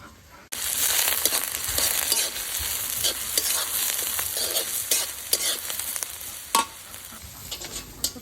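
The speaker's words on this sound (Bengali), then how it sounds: "তো পেঁয়াজ কাঁচা মরিচ ভাইজা নিলাম" Onions and green chillies fry in hot oil for fried rice in a village kitchen, a loud continuous sizzle broken by scraping stirs of a spatula, starting abruptly and running steadily with occasional clanks.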